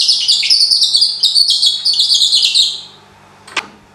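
Nightingale imitated with a wood-and-lead bird call device, a rapid, loud string of high warbling trills and chirps lasting about three seconds, then a short pause and a single faint click.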